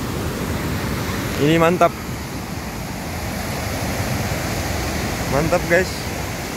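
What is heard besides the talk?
river flowing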